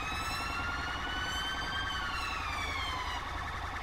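A wailing ambulance siren rises and falls in a smooth, continuous sweep, sounding moderately near in GTA 5 with a British police mod, steady throughout with no talking.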